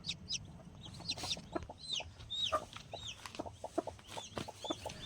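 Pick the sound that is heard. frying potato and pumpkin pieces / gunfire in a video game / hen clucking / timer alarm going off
hen clucking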